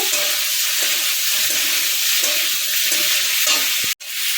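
A spoon scrapes and stirs pumpkin and prawn ghonto in a hot pan after fried sugar goes in, rhythmic strokes over a constant close sizzle that cuts out briefly near the end.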